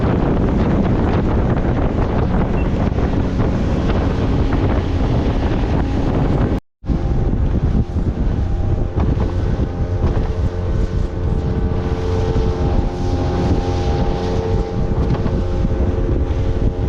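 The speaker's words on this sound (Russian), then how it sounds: "Итак, мы в лодке на Маликонесах." A boat motors across the water near Buenos Aires, with a steady engine drone and heavy wind buffeting the microphone. The sound cuts out briefly partway through.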